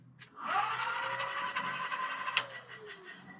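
The older motor of an XPedition electric bike runs on a stationary bike with a steady, fairly loud whine that holds for a few seconds, dips slightly in pitch, then winds down near the end.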